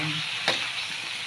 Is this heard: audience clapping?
no